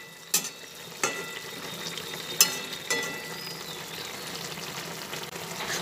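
Vegetables with neem leaves simmer and hiss softly in a covered pot after salt goes in, while a spoon stirs them with several distinct clinks and scrapes against the pot.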